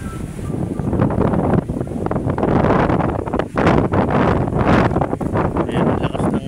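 Strong habagat monsoon wind at Manila Bay roars and buffets the microphone in loud, uneven gusts, with a short lull partway through and no talk.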